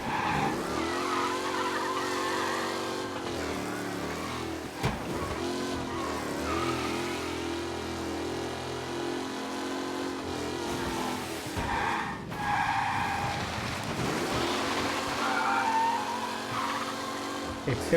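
Car engine and tire skidding in the video game Mafia Definitive Edition, a steady loud drive with squealing tires sliding through turns, continuous throughout.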